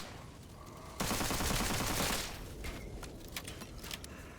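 Rapid burst of machine pistol fire in the video game Witchfire, a dense rattling volley lasting about a second, loud and close, followed by quieter clicks and scattered shots under faint background noise.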